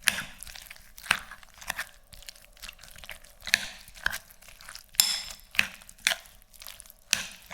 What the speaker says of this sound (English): And now I'm gonna mix this all together.